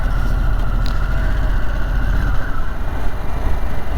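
A Harley-Davidson Sportster S 1250 motorcycle rides along a road. A steady, loud low engine rumble runs continuously with rushing wind noise and no speech.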